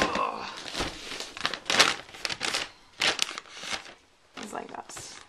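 Wrapping paper crinkling and rustling in irregular bursts as a gift package is folded up close, with speech running alongside.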